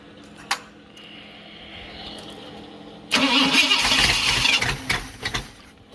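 A Ford 351W V8 on a ground-test stand cranks over and then catches with a loud burst, settling into a rough, uneven run after a few seconds of quieter background.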